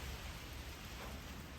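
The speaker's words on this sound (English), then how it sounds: "windy, and a little bit of rain." Steady rain and wind outdoors in the woods on a chilly day, a continuous broadband wash of falling drops and gusts at a constant low level with no voices.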